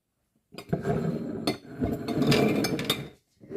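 Fresh cucumbers are packed into glass jars for pickling, with close, irregular clinks, knocks and thuds of the cucumbers and glass, alone and without talking.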